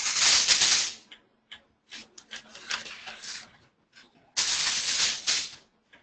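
Computer keyboard typing in bursts: a dense clatter of keystrokes at the start, then scattered single taps and short runs, and another sustained burst near the end, fairly close and without talk.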